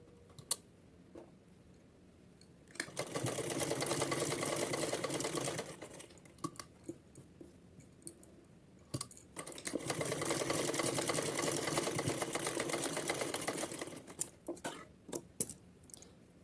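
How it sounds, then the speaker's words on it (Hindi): A sewing machine stitches a small dress for a Kanha ji idol, running in two long steady whirring bursts with brief clicks and pauses between them, close and clear. "तो चलिए इसको सिल लेते हैं।"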